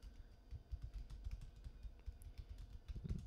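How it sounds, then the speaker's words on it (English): Someone types Python code on a computer keyboard, producing a close, soft patter of uneven keystrokes with duller thumps, heard alone without talking. "I'm just going to type it all out and then I'll explain it in detail."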